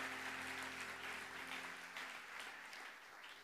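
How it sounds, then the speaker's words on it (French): A church congregation applauds, a dense, steady wash of clapping that slowly fades, heard at a distance in a large hall. "On acclame Jésus"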